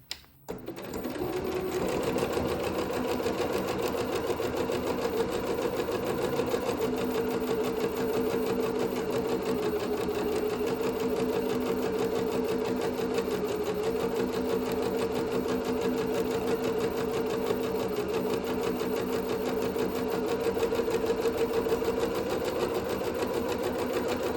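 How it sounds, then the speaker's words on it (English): A sewing machine stitches the side seams of a cowl-sleeve garment, running in one steady, close, continuous whir for over twenty seconds after a brief start, with no voices. "And I'm just going to sew the side seams together."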